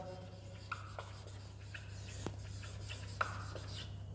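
Handwriting on paper during a formal business letter lesson, quiet scratchy pen strokes in short intermittent bursts against a low steady background hum.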